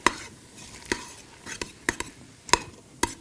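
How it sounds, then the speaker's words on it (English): Vegetables for a corn jalapeño chowder stirred in a cooking pot, with sharp, evenly spaced scrapes and knocks of a utensil against the pot over a faint sizzle. "So you want to stir these up"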